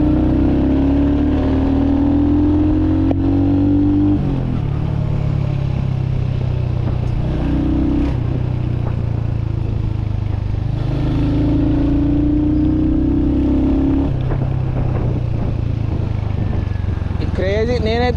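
Motorcycle being ridden with a passenger, engine droning and rising and falling through revs, close and loud, with wind rush and people talking over it.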